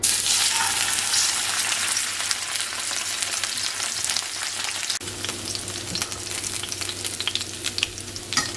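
Salmon seasoned with salt and cayenne fries in hot ghee (clarified butter), giving a loud, steady crackling sizzle with continuous spitting pops, up close and alone.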